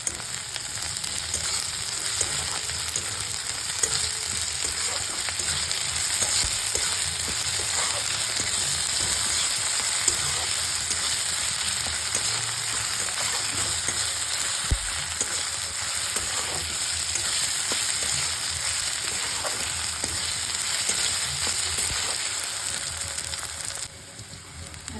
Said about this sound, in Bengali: পেঁয়াজটা ভাজা ভাজা হয়ে গেছে, এতে 1/2 টিস্পুনের মতন আদা রসুন বাটা দিয়ে দিলাম, দিয়ে ভালো করে কষিয়ে নেব